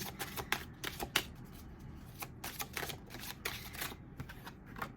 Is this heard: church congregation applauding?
no